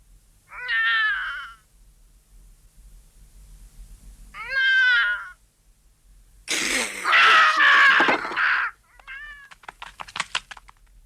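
A domestic cat meows in several separate, fairly close calls: two clear meows early on, then a longer, louder, strained yowl, followed by softer rustling and clicking.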